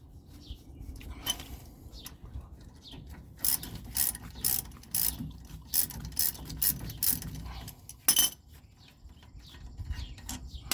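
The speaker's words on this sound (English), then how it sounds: "so I have to get the crescent wrench on it." A ratchet clicks rapidly in short bursts while loosening a rear brake caliper nut on a Chevy Silverado 1500, with metallic tool clinks in between, close and fairly quiet.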